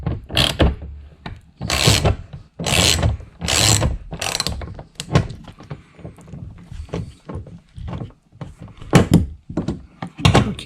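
A 10mm bolt is worked loose from the passenger-side door panel of a Nissan NV200, bursts of close ratchet clicking separated by short pauses and a few clunks, with no talking.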